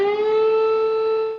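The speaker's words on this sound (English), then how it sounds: "Sirens sound as explosions are heard moving closer and closer to the country's largest city." Air raid siren in Ukraine during a Russian attack, a single steady loud wailing tone with rich overtones, held unbroken before it begins to fade.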